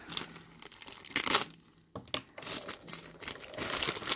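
A crinkly plastic parcel packet rustles and tears open in short irregular bursts close up, with brief pauses between the rips and no talking.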